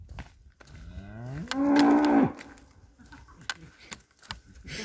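A single loud, drawn-out cow moo close by on the Colorado Trail near Hermosa Creek, rising and holding for under a second before breaking off, followed by quieter outdoor rustling.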